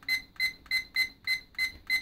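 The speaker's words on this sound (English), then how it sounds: "Quite a shrill beep," A digital thermometer-hygrometer alarm sounds seven shrill electronic beeps in a steady, evenly spaced rhythm, each one a bright piercing tone close by.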